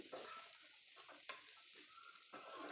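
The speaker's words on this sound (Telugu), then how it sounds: "వేసుకొని నీట్గా మిక్స్ చేసుకోండి." Chili powder being stirred into okra curry in a pan, with a steady soft sizzle and a few short scraping strokes close by, no voices.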